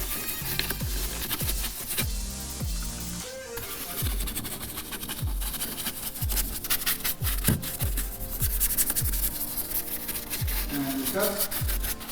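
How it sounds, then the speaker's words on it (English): A brush scrubbing GYEON Q²M APC all-purpose cleaner into the nooks of a car's surfaces, a continuous close rubbing and scratching with quick back-and-forth strokes, under a steady background bed. "we apply and we just gently start agitating it, working it in onto all the nooks and crannies"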